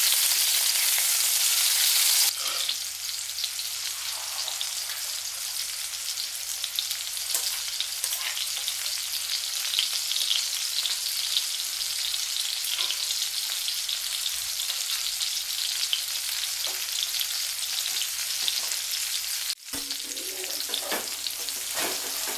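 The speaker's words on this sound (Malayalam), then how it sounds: "നമ്മൾ ഒരടുപ്പത്ത് മീൻ ഉറക്കാനിട്ടിട്ടുണ്ട്, പിന്നെ ഒരടുപ്പത്ത് കോഴിമുട്ട പൊരിക്കാനും വെച്ചിട്ടുണ്ട് കേട്ടോ" Steady, loud sizzling of fish and eggs frying in hot oil in pans, a constant crackling hiss with scattered pops throughout and no voices.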